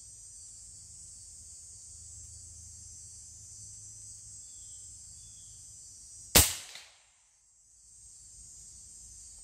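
Airgun firing a 150-grain pellet outdoors, one sharp loud crack that stands out against a steady high insect drone, then a brief quiet decay before the buzzing returns.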